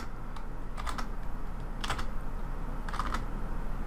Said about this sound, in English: Let's say I was to type in a value of